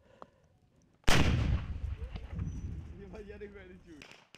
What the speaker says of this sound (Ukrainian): Силовики ж відповідають спершу пострілом з гранатомету.